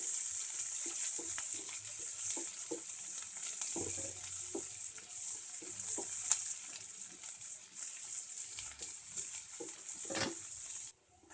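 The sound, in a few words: onions frying in a pan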